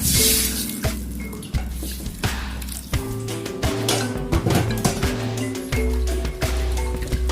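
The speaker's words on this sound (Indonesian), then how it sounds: "Selepas itu tambahkan sedikit air" Water splashes and gurgles as it is poured into a pan while cooking fried noodles, with clinks and knocks of cookware throughout, close by.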